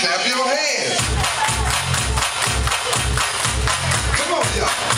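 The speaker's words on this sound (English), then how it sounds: "Everybody clap your hands." A wedding crowd claps in a steady, regular rhythm of loud, close hand claps, with voices and music-like background continuing underneath.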